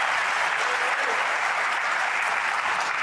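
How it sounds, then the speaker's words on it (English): A snooker final crowd applauds loudly and continuously, a thick wash of clapping mixed with cheering from a packed arena, steady and unbroken throughout. "There's the cheer from the crowd."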